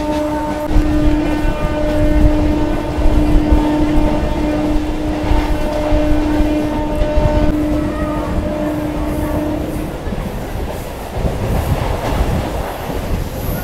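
Local train from Howrah running into Digha railway station, a loud continuous rumble and rattle of wheels and carriages with a steady tonal hum that fades after about ten seconds.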